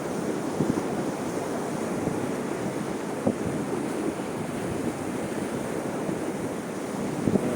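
Steady rush of surf washing against the shore, continuous and broad, with gusts of wind buffeting the microphone.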